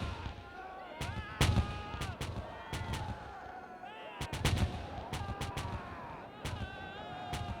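Artillery cannon fire at the Battle of Borodino, with sharp, heavy booms that burst out every second or so, some grouped close together, over a constant rumbling din of battle and raised voices.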